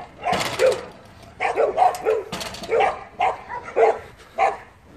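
Dogs bark in several sharp bursts near a home workshop, short irregular barks and yips spread over a few seconds, fairly close and loud with little else around them.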